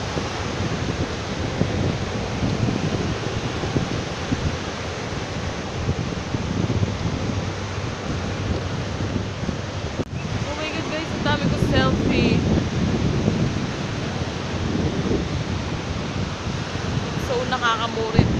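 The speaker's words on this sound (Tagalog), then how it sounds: "Sobrang lakas ng alon." Strong ocean waves crash and wash continuously on the shore at San Fabian Beach Resort, a broad roaring surf heavily mixed with gusty wind buffeting the microphone.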